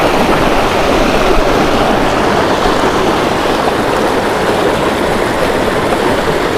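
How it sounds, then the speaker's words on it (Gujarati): Water rushes steadily through a river canyon at Kadiya Dhro in Kutch, pouring straight down into the river. It makes a loud, unbroken, close-up roar with no voices. "જો આ સીધું પાણી મિત્રો જો નદીમાં જાય છે"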